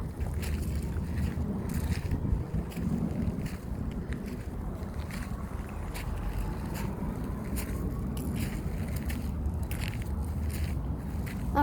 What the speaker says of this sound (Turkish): rüzgar da başladı şu anda